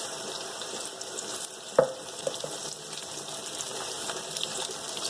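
Garlic, ginger and chillies fry in a pan after onions, giving a steady soft sizzle with a sharp clack near the start and a few small knocks.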